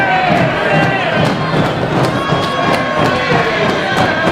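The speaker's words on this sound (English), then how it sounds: "The crowd, though, just hammering on that mat." At a wrestling show, the crowd pounds on the ring mat with rhythmic thuds beneath a loud, continuous roar of cheering from the arena.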